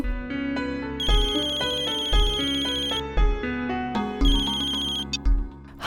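A phone ringtone plays a bright, repeating melodic chime pattern, clear and close, with no talking.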